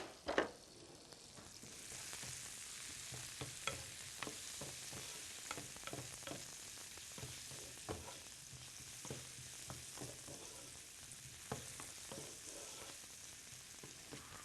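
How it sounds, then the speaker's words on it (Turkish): Food sizzles in a frying pan while being stirred, with a continuous close frying hiss and repeated soft scraping knocks of the utensil throughout. "Ayrıca şöyle bir karıştıralım."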